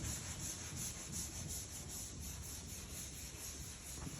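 Body putty on a 1979 El Camino being sanded flat by hand, a continuous, even rubbing and scratching at low level with no pauses, heard alone.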